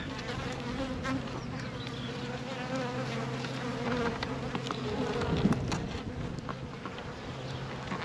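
Honeybees buzz in an open hive with two queens, a dense, steady droning hum close to the microphone that swells slightly midway and carries on throughout with no talk.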